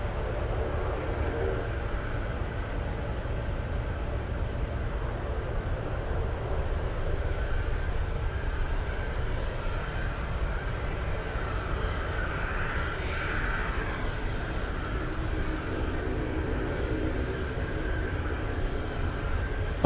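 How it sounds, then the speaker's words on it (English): A propeller aircraft moves around the Anchorage airport, its engines a steady, distant drone that holds evenly with no break. "I just heard an interesting sounding prop. Who is that? Oh, that could be the Dash 8."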